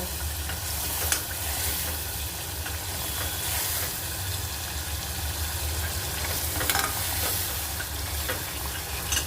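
Food fries in a pan while being stirred and mixed with sugar for a homemade pizza topping, producing a continuous moderate sizzle with occasional soft utensil clicks and no voices.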